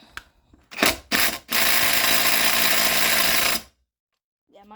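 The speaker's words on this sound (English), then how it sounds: "Hit these with the impact." Impact wrench driving exhaust bolts on a mud mower: two short bursts, then a long steady whirring rattle of about three seconds, loud and close, ending in silence.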